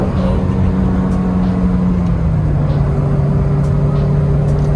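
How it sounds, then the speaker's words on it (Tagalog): Car engine and induction noise heard from inside a moving car, a steady low hum with a sustained tone that dips slightly in pitch partway through, with no voices. "Engine noise lang. Induction noises lang, no?"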